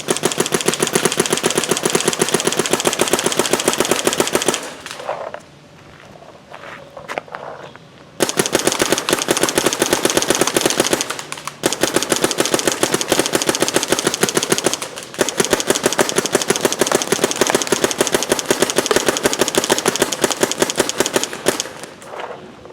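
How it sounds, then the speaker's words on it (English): A Planet Eclipse Emek MG100 paintball marker fed by a Spire 3 hopper fires in long, rapid, loud bursts of closely spaced shots, with two short pauses between strings of fire. "it will be interesting to see just how it shoots with a hopper"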